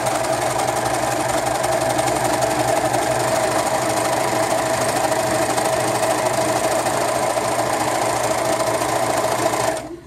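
An overlock-style sewing machine with a knife blade runs continuously as it stitches and trims fabric, a close, steady mechanical whir that cuts off abruptly at the end.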